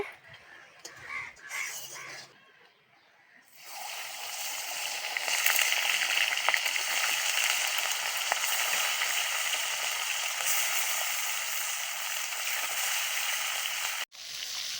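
After a few quiet seconds of handling noise, bata fish starts frying in hot oil in a wok with a soft, steady sizzle that runs on before stopping abruptly.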